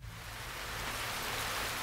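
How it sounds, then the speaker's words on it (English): Steady rain pours in a dense, uniform wash of noise that holds without pause across the short stretch, with no voices present. "It's raining now."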